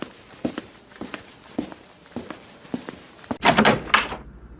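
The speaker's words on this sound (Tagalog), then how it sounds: "Tara kuya, buksan natin yung pinto." A door is unlocked and opened: a series of soft, evenly spaced clunks and steps leads to a loud rattling burst of latch and door movement, close and fairly loud, with no talking.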